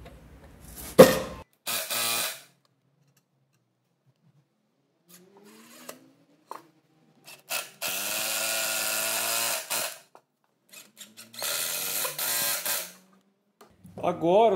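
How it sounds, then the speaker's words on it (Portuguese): An impact driver drives thick screws into a wooden dining-table leg in several bursts, two of them sustained for a couple of seconds, with quieter pauses and brief clicks between, under occasional talk. "Vou trocar de parafusadeira, que essa aqui é de impacto, tem mais torque."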